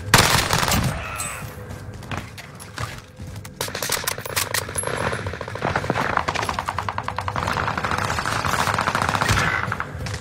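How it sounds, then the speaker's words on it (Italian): Loud, rapid gunfire in a video game, dense bursts of automatic shots and clattering impacts that continue almost throughout, close and harsh with brief lulls. "Colpi in arrivo."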